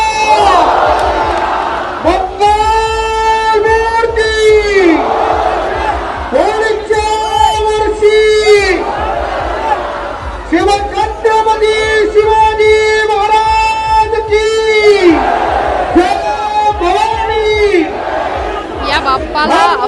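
A huge, dense crowd fills the street during the Dagdusheth Halwai Ganpati procession in Pune, chanting in loud rhythmic waves of collective shouting that rise and fall repeatedly, with a constant roar of voices beneath.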